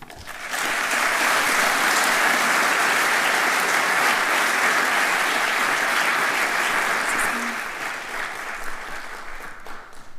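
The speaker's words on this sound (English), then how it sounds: "You guys are getting so good at this applause thing" Sustained audience applause fills a hall during a school district Hall of Honor celebration, many hands clapping steadily for about seven seconds before thinning and tapering off near the end.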